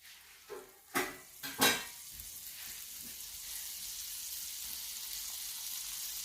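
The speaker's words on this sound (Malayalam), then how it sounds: "ഞാൻ അതിട്ട് കുറച്ച് ബട്ടർ ഇട്ട് കൊടുക്കുന്നുണ്ട്." Butter sizzles in a hot pan for chicken filling: a few sharp clinks and taps at the start, then a steady, close, hissing fry that continues alone to the end.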